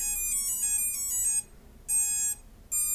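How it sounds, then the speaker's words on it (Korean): Drone BLDC motors sound a run of bright, tonal electronic beeps during ESC calibration, heard in rhythmic groups separated by short silences, close and clear with no talking. "지금 같은 비품이 좀 울릴 텐데 그 비품은 모터에서 나는 소리예요."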